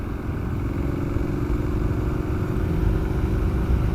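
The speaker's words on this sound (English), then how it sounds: "So I can still drive the bike just fine" Motorcycle ridden on the road, its engine running steadily with a continuous low drone and wind rush, loud and close, with no pauses or gear changes.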